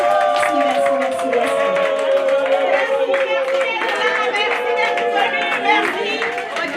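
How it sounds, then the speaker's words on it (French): Guests at a birthday party applaud, a steady patter of clapping mixed with lively chatter, cheers and overlapping voices close by. "On applaudit pour Gaïda."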